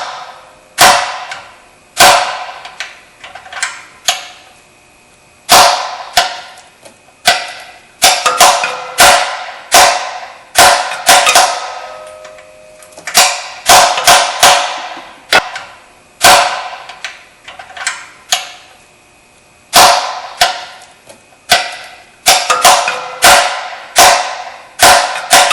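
A hammer drives a socket onto a stripped aluminum oil pan bolt, with an extension in place. Sharp metallic strikes land close and loud, in irregular bursts of quick repeated blows separated by short pauses.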